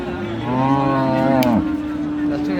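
A Friesian cow at a cattle market in Ambari, Dinajpur gives one long, loud, close moo lasting about a second, with faint market noise around it.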